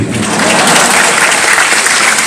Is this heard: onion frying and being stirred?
no